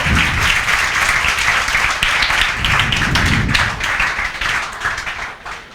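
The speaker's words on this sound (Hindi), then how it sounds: "भैया के लिए जोरदार तालियां बजाओ, बजाओ।" Students in a classroom maths lecture clap loudly for a classmate, a vigorous burst of many hands with some thumping taps on desks, close and sustained before fading near the end.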